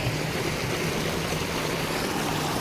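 Water pours into a farm field in a continuous rushing flow, steady and fairly loud, with no talk over it.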